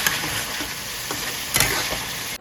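Spices sizzle and fry in hot oil while being stirred in a home kitchen pan, a steady close hiss with a few scraping stirs, ending abruptly.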